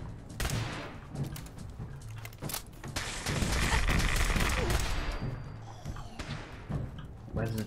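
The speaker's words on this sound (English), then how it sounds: "I can't see a bloody thing with a gamma gun firing in my face" A gamma gun firing in the Fallout 4 video game, a stream of loud close shots and thumps over a few seconds amid combat noise and some talking.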